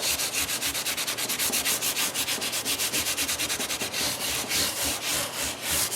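Steady back-and-forth rubbing of fine abrasive over the metal frets along a guitar fretboard, removing file scratches, rhythmic strokes continuing close and moderately loud with no talking.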